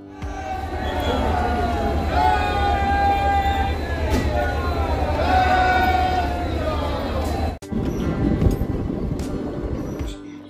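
A train stands at Narmadapuram railway station, its rumble filling the platform along with crowd noise and a few people talking. Brief tonal horn-like sounds appear, then the sound drops out sharply before resuming more quietly.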